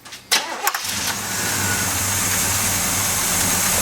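A GMC truck after an alternator repair: brief cranking clatters, then the engine catches and settles into a loud, steady idle that stays close and constant.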